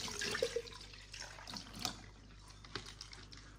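Water pours out of a glass plant vase back into its container, a close trickle and splash with a few gurgles and drips that fade toward the end.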